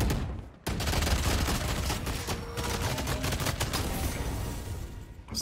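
Dense, close gunfire from the video game Valorant, rapid shots packed together almost without a break after a brief quiet start.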